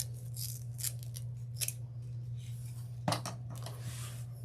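Scissors snip through mesh in a quiet room, several sharp, close cuts in an uneven rhythm, one louder than the rest, over a low steady hum.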